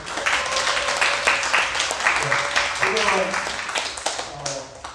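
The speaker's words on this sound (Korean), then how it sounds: "박수 한번 쳐주세요." A church congregation at a winter camp evening service claps in a warm burst of applause, many hands together at close range, with a few murmuring voices mixed in.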